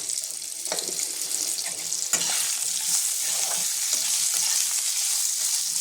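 Potatoes frying in oil in a home kitchen wok, giving a steady close hiss and sizzle, with a few louder stirring scrapes partway through and no talking.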